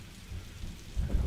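Steady rain falls with low rolling thunder, the rumble swelling louder near the end, with no voices.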